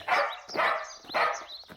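A dog barks three times in a steady rhythm, loud and close, with no talking over it.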